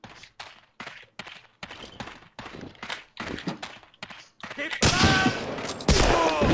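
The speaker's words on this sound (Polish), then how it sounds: "Jeden strzał i leży." Gunfire in the World War II shooter game Medal of Honor: Allied Assault, a string of sharp close shots in quick succession that builds into a louder, denser burst of firing at the end.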